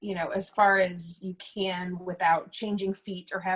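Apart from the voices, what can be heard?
No everyday noise stands out behind the speech.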